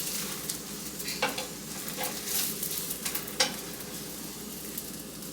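Carrot chapati frying in a little oil in a pan gives a steady sizzle, with several sharp scraping strokes of a cooking spoon over it. Close and clear, with no voices.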